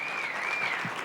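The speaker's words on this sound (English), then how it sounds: "One more round of applause for them" A conference audience applauds honorees at a summit session, a brief, steady wash of clapping at moderate level, with no talking.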